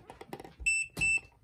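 An ACTBOT A12TOP-S 3D laser level gives two short, piercing electronic warning beeps when tilted too steeply, the pair close together after a soft clatter of handling.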